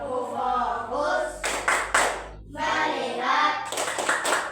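Children clap their hands in time with a rhythmic classroom clap chant, several sharp group claps landing between stretches of chanted voices.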